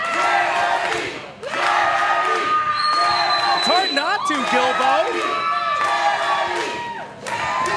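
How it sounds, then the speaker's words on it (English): Roaring capacity crowd at a women's wrestling match in Houston, loud sustained cheering and shouting with rising chants and surges, while commentators talk over the din. "do you hear the volume of this capacity crowd here tonight for Charity King?"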